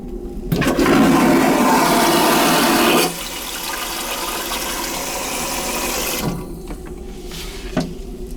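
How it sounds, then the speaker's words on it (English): A ship cabin toilet aboard the 2008 M/S Viking XPRS flushes with a loud close roaring rush for about three seconds, then a softer tank refill hiss that fades out. "Let's flush the toilet."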